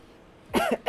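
A single close cough, two or three harsh bursts in quick succession after a short quiet pause, with faint room noise beforehand.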